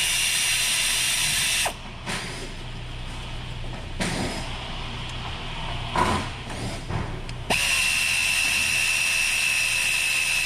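Mechanical ratcheting and tool clicks from removing 10mm bolts on the dual clutch actuator cover of a Hyundai Tucson, in several close bursts with pauses between them and no talk.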